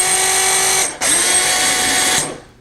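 A PT 4000 rivet tool cycles through its full stroke and returns, giving a loud, close mechanical whir with a brief break at the reversal, then a second run that stops abruptly.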